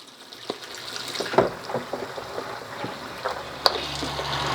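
Water runs from a household tap in a steady splashing stream, with irregular drips and small clatters over the continuous flow, fairly close and moderately quiet, with no voices.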